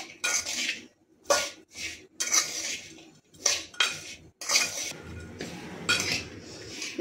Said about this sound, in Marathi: आता ह्याच्यामध्ये जे आपण आवळा तोडून घेतलेले आहेत ते टाकून मिक्स करून घ्यायचे आहे।